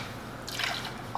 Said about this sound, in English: I poured in the one cup of whole milk.